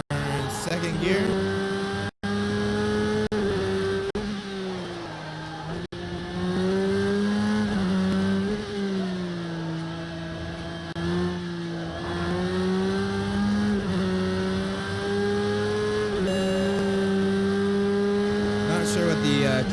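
Porsche RSR GTE race car engine in a racing sim, droning steadily through a second-gear corner with pitch dipping and rising, loud and continuous, a voice talking over it.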